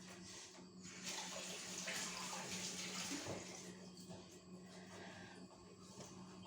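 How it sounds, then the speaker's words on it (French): A tap runs steadily while hands are rinsed beneath it, a faint, continuous splashing hiss of water in a kitchen with small shifts in the flow and no talk. "je vais me rincer les mains en vitesse"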